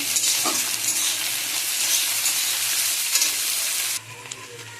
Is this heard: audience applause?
no